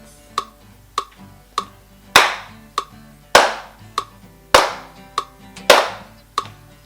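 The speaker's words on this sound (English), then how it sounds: "Let's clap our half notes." Hand claps in a half-note rhythm during a kids' music lesson, sharp and evenly spaced, with some louder claps landing alongside a steady ticking pulse.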